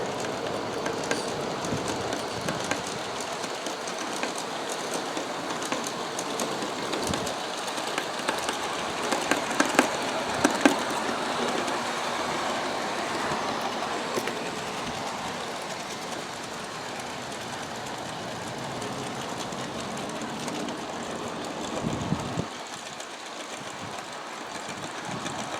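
A G scale model train with heavyweight cars on 3-axle trucks runs steadily along its track, a continuous rattling, clicking rumble with occasional sharper clacks, no voices.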